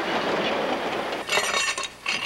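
CN diesel locomotives towing steam locomotive 6060 out of the shops near Edmonton, heard as a steady rumble of rolling rail cars with faint metallic clinks and clatter, close and continuous with brief dips.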